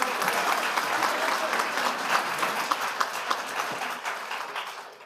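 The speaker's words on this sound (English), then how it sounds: "Let's give him a round of applause." An audience at a school governing board meeting claps enthusiastically in a sustained burst of applause that gradually fades away near the end.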